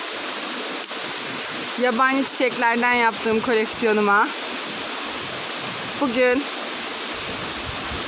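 Steady broadband rush of a waterfall at Dereova, with a voice talking over it in bursts before the roar continues alone.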